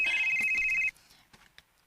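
A mobile phone ringtone sounds loudly and continuously as a steady electronic tone for just under a second, then stops, leaving faint background sounds.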